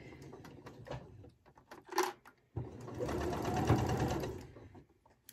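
A sewing machine stitches a sawtooth star quilt block in short bursts: a few stop-start clicks and whirs first, then one sustained, close run of stitching before it stops.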